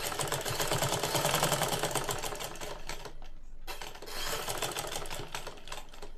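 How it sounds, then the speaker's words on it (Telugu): A sewing machine stitches cloth around the corner of a square neckline, its rapid, even mechanical clatter running steadily, pausing briefly when the fabric is turned, then resuming. "మళ్ళీ పాదం డౌన్ చేసుకొని కుట్టు అన్నది వేసుకోవాలమ్మా మనం"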